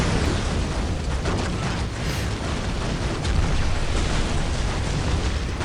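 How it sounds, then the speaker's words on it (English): Continuous dense rumble of rocket explosions from a Titan in the Dawn of War Unification mod, Imperial Guard against Orks, loud and sustained with overlapping booms and no clear pauses. "Rockets coming in from the Titan in the back."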